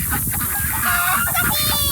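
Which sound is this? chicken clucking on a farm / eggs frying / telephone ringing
chicken clucking on a farm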